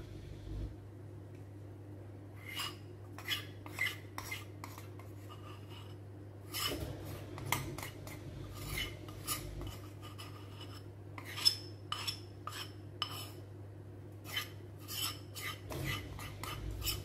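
A spatula scrapes and folds melted chocolate and butter into brownie batter in a bowl, giving faint repeated rasping strokes and light taps over a low steady hum, quiet and close.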